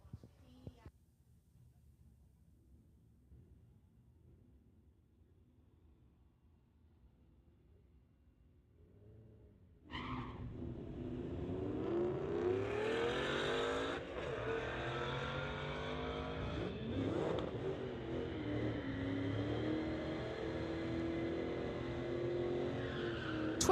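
A 2018 Audi and a Mustang drag race at a street-legal strip. A quiet rumble builds into a loud launch about ten seconds in, with tyre squeal and roaring engines that sustain to the end.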